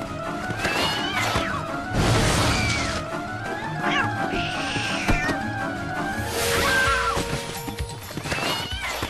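An angry house cat attacking after a glass shatters, with loud yowls, hisses and shrill cries in bursts over several seconds, mixed with a crashing clatter and agitated commotion.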